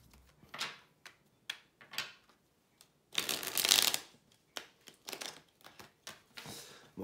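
Tarot cards shuffled by hand for a Celtic cross spread, heard as a series of short papery riffles and flicks, with one longer burst in the middle, close and fairly quiet with no talking.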